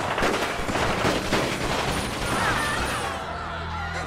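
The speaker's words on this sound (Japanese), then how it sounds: "手下の皆さん、無差別発砲開始しちゃって。" Indiscriminate gunfire from henchmen in a video game, a loud dense rattle of rapid shots and crashing impacts that fills most of the clip, then thins out to a quieter tail with a faint tone.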